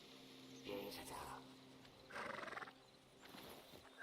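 A horse whinnies twice with clattering hoof sounds in the video game Hytale, set against a steady background hum and some faint game-like ambience.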